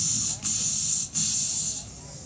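Beatboxer's mouth imitates an open hi-hat cymbal: a steady, bright hissing spray repeated about three times, each burst sustained and close, with brief gaps between.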